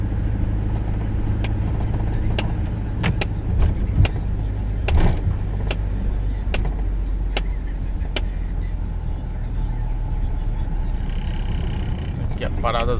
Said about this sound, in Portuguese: Lá vem o trânsito.